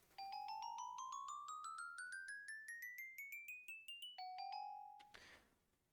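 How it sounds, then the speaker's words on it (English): A Minecraft note block on a gold block plays bell tones: a rapid run of about two dozen clear, chiming notes climbing in pitch, then a pair of lower bell notes and a brief noisy burst at the end. "With a block of gold, it will be bells."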